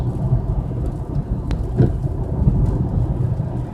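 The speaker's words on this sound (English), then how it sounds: "But it is raining" Steady rain in Payson, Arizona patters and hisses against a car while driving, under a low rumbling background, with a couple of brief sharper taps, continuous throughout.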